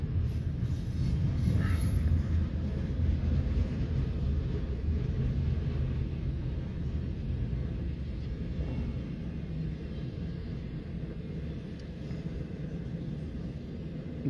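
A steady low rumble of a long Norfolk Southern intermodal freight train with spine cars rolling past nearby, continuous and heavy with faint clanking, no voices.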